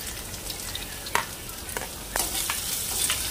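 Onion pieces go into a pan where green chillies are already frying; soft sizzling is broken by a few sharp clinks and scrapes, then a brighter burst of hiss as the onion hits the oil, up close and unspoken.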